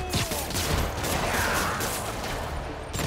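Dense, continuous gunfire rattles throughout a Marvel's Spider-Man video game fight in which Spider-Man is being shot at, with overlapping bursts mixed with mechanical clatter and no pauses.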